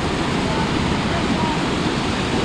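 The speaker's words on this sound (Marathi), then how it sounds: "वरून येणारं पाणी बघा किती वेगाने येत आहे." Swollen river in heavy monsoon rain in Konkan, water rushing fast downstream in a loud, dense, continuous roar that fills the whole stretch with no break.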